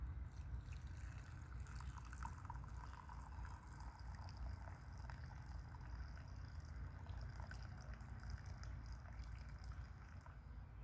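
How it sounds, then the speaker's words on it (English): Cowboy coffee pours from a kettle into a 12 oz kuksa outdoors, a steady soft trickle of liquid running unbroken for several seconds. "Now, I'll pour us a nice cup of coffee."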